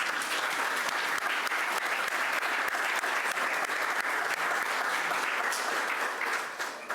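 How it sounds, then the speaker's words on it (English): Steady, dense applause from an audience at a building dedication ceremony, loud and continuous for nearly the whole clip before tapering off slightly at the very end, with no talking over it. "Please give them a warm round of applause."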